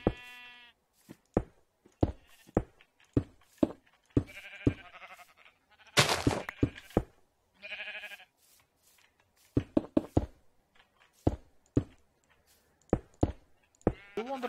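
Blocky sheep in Minecraft bleat in a run of short, separate calls spread unevenly across the stretch, some overlapping, loud and close with quiet gaps between.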